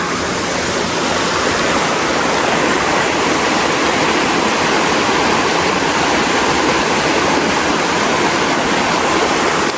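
Waterfall and flowing water at Omeru Reserve near Auckland: a steady, loud, full-bodied rush of falling water that never pauses, with no voices over it.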